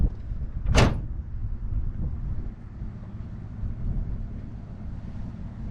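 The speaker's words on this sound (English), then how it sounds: "got your nice bed cover there. And let's raise it up." On a 2016 Ford F-150 Lariat SuperCrew, the pickup bed cover gives one sharp, close latch clunk as it is raised outdoors. Low wind buffeting on the microphone follows, with no talk.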